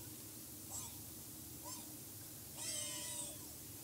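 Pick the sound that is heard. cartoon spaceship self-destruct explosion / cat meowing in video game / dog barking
cat meowing in video game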